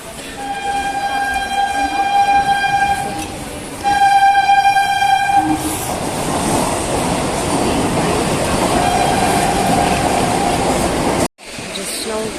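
A local commuter train pulls into a station, blowing two long, loud horn blasts before its heavy rumble and clatter fill the platform, close and sustained.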